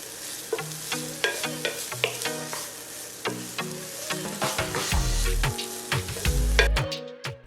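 Diced onions and green pepper sauteing in olive oil in a pan give a continuous soft sizzle with light stirring clicks, under steady melodic background music.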